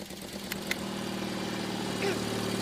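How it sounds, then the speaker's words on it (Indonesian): A steady motorcycle engine idling nearby, a low continuous rumble with a slight rise near the end, with brief higher sounds over it. "kayaknya saya dengar ada suara motor deh"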